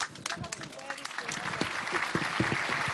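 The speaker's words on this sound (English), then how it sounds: "let's give Margot a big round of applause" A live audience at a talkaoke event gives a round of applause for a guest, brisk hand claps thickening and growing louder, with voices talking over the start.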